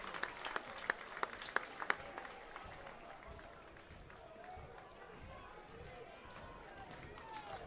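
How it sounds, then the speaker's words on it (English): A baseball stadium crowd cheers and claps, with a burst of sharp claps at first before settling into a faint, distant crowd murmur. "Crowd's all riled up now."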